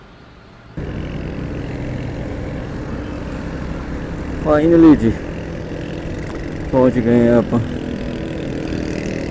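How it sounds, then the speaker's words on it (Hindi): City traffic on the roads of Lahore, a steady broad road rumble with passing engines that swells briefly twice, while someone speaks over it. "लाहौर की ट्रैफिक का शोर।"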